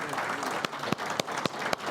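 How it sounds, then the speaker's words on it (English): A room full of people applauds a panel after a discussion on change management in organisations, a dense, steady roll of clapping with a few sharp, louder claps standing out near the microphone. "Please give them a big round of applause"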